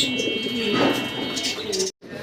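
A large fancy pigeon gives a soft, close coo, a low murmuring call over quiet background chatter, ending in a brief pause.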